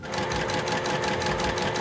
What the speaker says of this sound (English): you're gonna sew a 1/4 inch seam on each side of your line